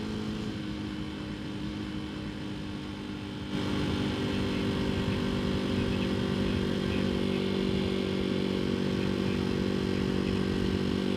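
Janus Halcyon 250 motorcycle engine under heavy throttle, a loud, steady droning roar that jumps up in level a few seconds in and holds there.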